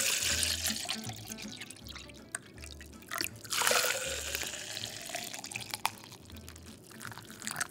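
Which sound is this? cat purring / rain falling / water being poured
water being poured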